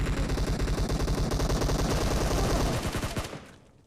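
Rapid automatic gunfire from a PUBG Mobile match, a loud, sustained burst of closely spaced shots lasting about three seconds before cutting off into a brief fading tail, with no talking.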